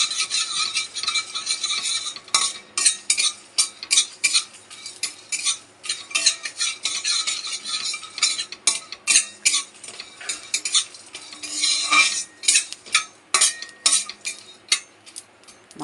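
A utensil scrapes and clatters repeatedly against a pan while spice masala for mutton is stirred, quick irregular metallic strokes over a faint sizzle, close and fairly loud, with no talking.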